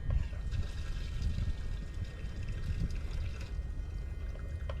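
Leftover liquid drains and trickles out of a transfer pump hose held overhead, a faint steady pouring wash lasting several seconds with no speech.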